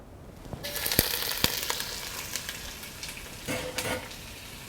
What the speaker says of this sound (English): Let that oil heat just for a second or two. And then I'm going to add my onions.